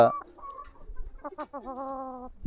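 Native country chickens on a farm give a few short, close clucks followed by a longer drawn-out call, with quiet pauses between them.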